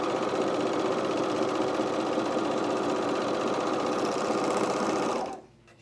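A coverstitch sewing machine stitching a stretched camisole band, a fast steady mechanical whir running continuously for about five seconds before stopping abruptly.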